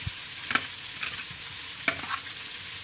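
Nopal salad with chopped tomato and salt being beaten together in a bowl, a few sharp clinks and scrapes of the utensil over a soft steady hiss, close and alone.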